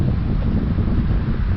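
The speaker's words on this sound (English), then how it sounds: "it's got very windy" Strong, gusty wind roars against the microphone on a walk along a tree-lined path outdoors, a dense continuous rumble filling the whole moment with no voices.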